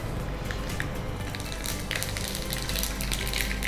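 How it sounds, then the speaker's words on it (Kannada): Mustard seeds crackle and splutter in hot oil for a tempering, a dense continuous sizzle with scattered sharp pops, close and steady throughout. "ಒಗ್ಗರಣೆಗೆ ಸಾಸಿವೆ ಅಲ್ಲ?"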